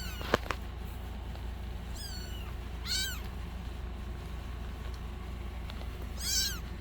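Abandoned kittens cry in a series of thin, high meows with gaps between them, close by and fairly quiet, with no talking.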